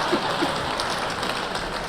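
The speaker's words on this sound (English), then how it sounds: "You applaud that." Audience at a 1984 Bob Saget stand-up show breaks into steady applause, a dense wash of clapping filling a short burst without any voice on top.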